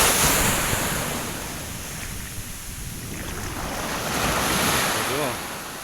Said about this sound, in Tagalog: Diyan lang malakas na alon.